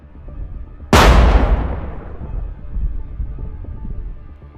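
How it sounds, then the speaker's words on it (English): A single powerful blast as a drone strikes a Russian armored personnel carrier head-on, a sharp, loud bang that rolls off into a long rumbling decay, with low background noise before and after. "The drone hits the vehicle head-on, causing it to stop, followed by a powerful explosion"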